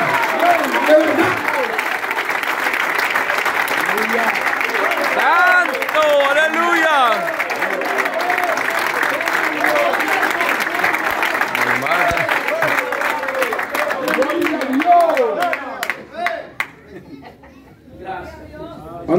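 Thin, half-hearted clapping from a church congregation at a live service, spread over about fifteen seconds beneath a preacher's loud voice and crowd murmur, then thinning out and dying away near the end.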